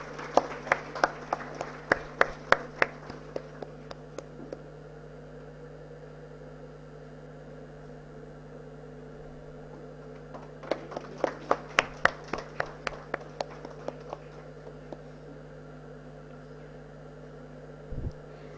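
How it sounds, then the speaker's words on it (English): Audience at an international management conference at Prestige Institute gives two bursts of clapping, a scattered patter that swells and fades, then a later second round, fairly faint over a quiet room hum. "Please give him a big round of applause."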